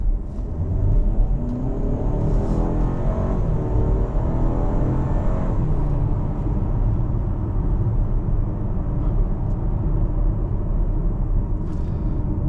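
A 2023 Buick Envision Preferred Sport Touring with a 2-liter engine and nine-speed transmission accelerates through traffic, a loud, steady engine drone and rumble holding throughout with no talk.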